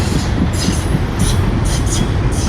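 Loud, continuous rumble of train cars rolling past close by at the Louisville & Nashville train station in Bowling Green, Kentucky, with rhythmic clacking of wheels over rail joints.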